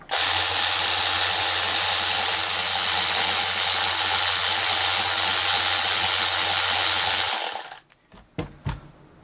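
Knock-off Milwaukee M18 3/8-inch cordless ratchet on a fresh 5.0 battery, running at a steady high-pitched whine for several seconds before stopping, followed by a few short clicks and taps.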